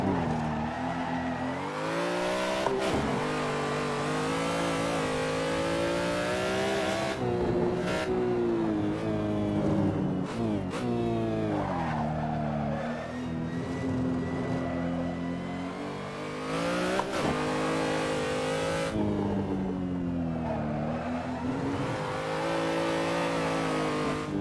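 A BMW M3 drift car in Assetto Corsa, its engine revving hard and constantly rising and falling with gear changes, with tyres squealing through slides, loud and close with no talk.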